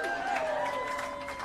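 Crowd at a Hollywood Walk of Fame star ceremony for Gillian Anderson, cheering and applauding in a steady, continuous wash of noise with whistle-like tones riding over it.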